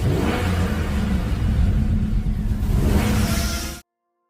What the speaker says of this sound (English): the supercharged V8 under the hood of the F-Pace SVR is one of the smoothest and nastiest sounding